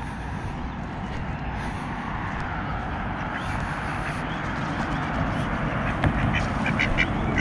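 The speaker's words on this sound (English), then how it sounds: "I'll just give you a shot of these ducks" A group of ducks quacks outdoors in repeated nasal calls over a constant background wash, some calls closer and louder than others.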